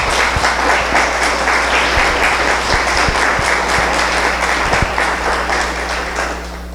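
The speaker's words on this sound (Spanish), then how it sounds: "Les damos un fuerte aplauso a todos ustedes." Church congregation in Querétaro giving a strong round of applause, dense and continuous clapping from a large crowd that tapers off slightly at the close, with a steady low hum underneath.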